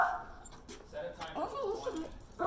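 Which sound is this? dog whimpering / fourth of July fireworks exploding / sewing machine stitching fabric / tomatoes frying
dog whimpering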